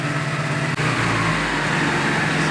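A car engine running steadily right after a new DME computer install, a loud, even rumble and whine that stays constant with a brief dip, then a slight rise in pitch and level.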